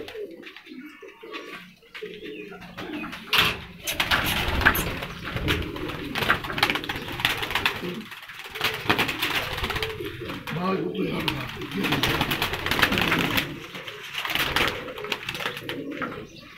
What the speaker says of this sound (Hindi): तो मैं जनाब मलिक उज़ैर से गुजारिश करूंगा कि सबसे पहले हमें चिड़ी कबूतरी जो है वो ज़रा पकड़ें।